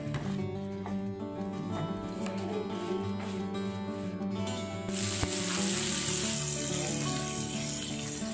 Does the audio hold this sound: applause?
no